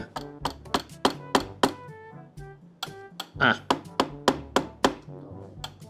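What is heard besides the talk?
striking with a hammer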